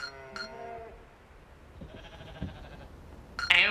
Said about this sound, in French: Un troupeau de moutons?